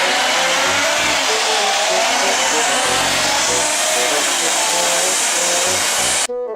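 A blue toy cement mixer truck plays an engine sound: a continuous hissing, revving rumble with faint pulsing tones that cuts off abruptly near the end.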